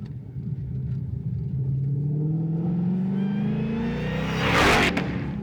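A Ford Mustang GTD sports car with a sports exhaust revs hard, its engine note climbing steadily to a loud, rasping peak near the end, close and alone with no talk.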